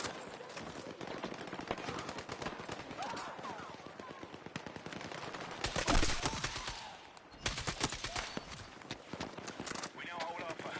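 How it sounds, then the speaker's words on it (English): Bursts of rapid machine gun fire in a video game battle, crackling in fast clusters amid other shots and clatter, with voices calling out over the gunfire. "Hostile machine gun in sight!"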